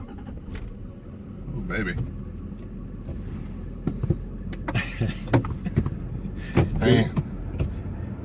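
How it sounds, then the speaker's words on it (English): A Dodge Ram diesel truck runs at a low, steady idle after an engine flush, its rumble sitting under people talking and exclaiming, with some wind buffeting the microphone. "this thing doesn't even sound like a diesel right now"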